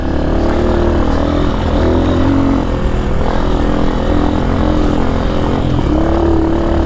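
A 2005 Honda CRF230F, a carbureted trail bike of about 20 horsepower, rides along a dirt trail. Its engine drones steadily and loudly the whole time, with slight rises and falls in pitch as the throttle shifts.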